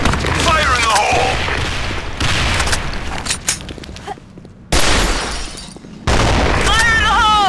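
Grenade blasts and gunfire in an online first-person shooter match, with loud bursts and crashes in several bouts separated by brief quieter gaps, mixed with game effects.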